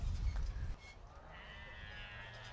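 Beltex sheep bleat faintly in a livestock show ring, a thin wavering call rising out of steady crowd and arena noise after a brief burst of low rumble.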